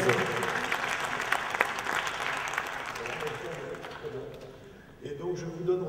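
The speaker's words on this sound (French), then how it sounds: "Je demande d'applaudir mes amis et Boursorama pour cette innovation 2011." Audience applause at an award ceremony for an innovation prize, a steady dense clapping filling the room for several seconds, thinning briefly before swelling again near the end.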